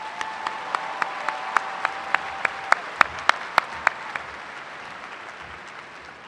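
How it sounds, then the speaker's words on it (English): Audience applause at a university commencement ceremony: a run of sharp, evenly spaced claps stands out over a softer crowd wash, then the clapping thins and fades away. "Please recognize him and the excellence he represents with your applause."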